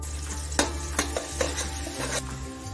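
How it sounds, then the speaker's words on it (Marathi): Bay leaf and finely chopped onion fry in hot oil in a home kitchen pan, a steady low sizzle broken by a few sharp stirring clinks of a spoon against the pan, close and moderately loud with no talking. "तेल तापलेलं आहे, तर तेलामध्ये आपण तमालपत्र, एक बारीक चिरलेला कांदा, कांदा गुलाबी करायचा।"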